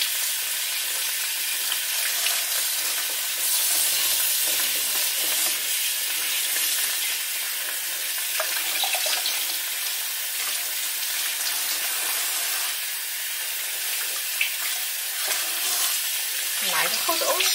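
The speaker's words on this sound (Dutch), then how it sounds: "Even onder de kraan afspoelen." Cold tap water running over salted cod being rinsed under the faucet, a steady hissing splash throughout with small shifts as the fish is moved, and no voices.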